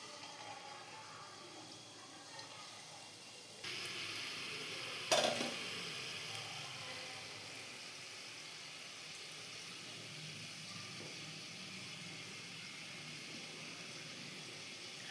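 Labanga sweets dropped one by one into hot white oil in a kadai, a steady soft frying hiss with a brief louder burst partway through, no voices.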